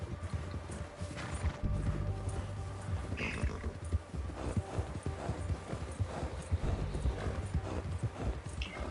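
Horse hooves in the video game Red Dead, a steady rapid clip-clop of a galloping mount under low rumbling game ambience, constant and fairly close throughout.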